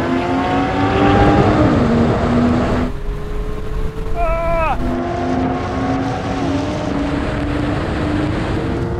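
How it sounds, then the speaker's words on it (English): A Porsche 911 Turbo S Coupe pulls hard through a rolling drag race from 50 mph in automatic mode, its engine note climbing through the gears with audible shifts, loud and close, with heavy wind rush over everything. "Look at that Turbo Coupe go, I've got too much drag."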